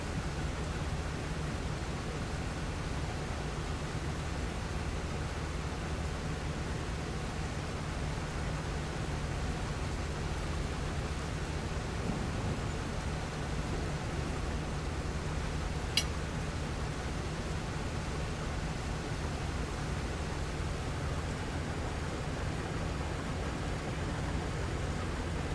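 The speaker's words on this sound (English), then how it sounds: "I hear the thunder." Steady rain hisses evenly in Farming Simulator 25, a broad continuous wash with no clear thunder roll standing out.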